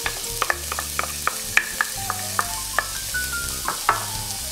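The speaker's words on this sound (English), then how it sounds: "Next, we're going to be sauteing some vegetables together. We'll start with some vegetable oil. And I'll be adding some finely chopped onions" Finely chopped onions sauté in vegetable oil with a steady sizzle, and a spoon clinks and scrapes the pan in a regular rhythm; no voices.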